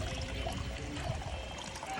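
Water runs steadily into a vessel during a household ritual, a continuous close pouring and trickling sound over a short stretch with no talk.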